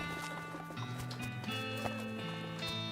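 Horse clip-clop in the video game West of Loathing: rhythmic hoof taps over a sustained tonal music bed, quiet and steady for a few seconds.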